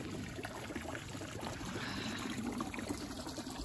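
Continuous trickling and splashing of water from a fish-shaped fountain spout at York Gate Garden, moderately close, with a faint murmur of background activity.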